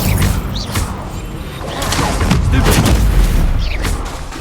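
Incendio fire spell casting in Hogwarts Legacy on Xbox Series X, heard as loud bursting whooshes and booms in a busy spell-duel mix, with a continuous rumbling bed and sharp impacts layered throughout.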